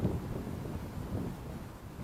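Gusty wind buffets the microphone at an open South Jersey campground, a low, constant rumbling roar with small surges and no voices.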